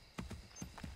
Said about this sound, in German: Ein Pferd kommt.